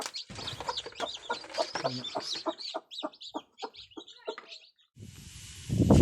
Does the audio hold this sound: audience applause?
no